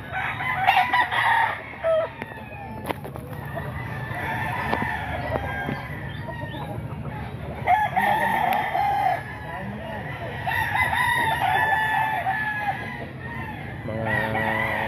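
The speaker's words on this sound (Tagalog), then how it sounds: "Yan, mga manok po ni Boss Tony mga idol" A crowded yard of chickens clucking while roosters crow repeatedly, some close and loud, others farther off, with occasional voices underneath.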